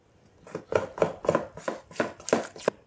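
Pizza dough ingredients are stirred in a bowl with about eight rhythmic, evenly spaced scraping strokes, close and fairly loud, with no talking.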